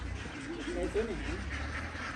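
Ducks on a Thai farm that raises ducks, goats and chickens quack a few times, fairly close but quiet, over a low background hum and some murmuring voices.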